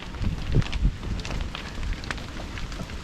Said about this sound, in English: it was a bit windy at the minute